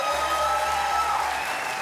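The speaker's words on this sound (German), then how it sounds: "Applaus." A short burst of steady applause, many hands clapping at an even, unbroken level for about two seconds, with faint sustained tones running underneath.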